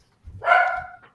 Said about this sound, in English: This is my dog again.